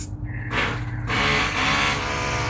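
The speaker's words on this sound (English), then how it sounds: "You can tell, you can hear the air come out." Steady broadband hiss of air rushing out of a koi pond air pump, continuous and fairly loud, with a low mechanical hum underneath and no voices.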